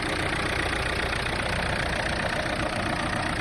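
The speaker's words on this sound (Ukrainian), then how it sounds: "Мотор працює чітко, рівненько" A Renault Megane 3 1.5 dCi diesel engine idles steadily and loudly, a constant low rumble with no variation and no voices.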